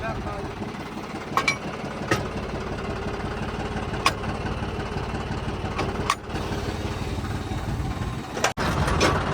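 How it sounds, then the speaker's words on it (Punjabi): A tractor engine runs nearby with a steady, continuous mechanical drone while straw is being hauled, broken by a few brief knocks and clatters. "ਦੂਆ ਟਰੈਕਟਰ ਆਪਣਾ ਕੋਲੇ ਚੱਲ ਰਿਹਾ ਜੀ ਉਹ ਚੱਲ ਰਿਹਾ"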